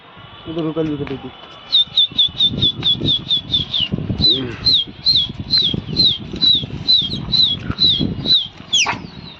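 Bursts of fluttering wingbeats from pigeons taking flight in Lucknow pigeon-flying, mixed with a rapid series of high repeated whistles and a murmur of voices in the background.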